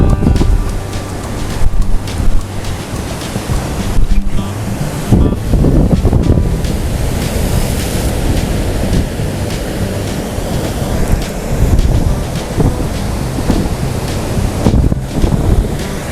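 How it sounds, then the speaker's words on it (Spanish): Pacific surf breaks on Las Peñitas beach in Nicaragua, rough and loud, with waves crashing over and over amid heavy wind buffeting the microphone and no voices. "olas son un poco más violentas acá en este lado del Pacífico de Nicaragua"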